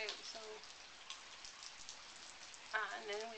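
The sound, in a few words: light rain falling outdoors at a farm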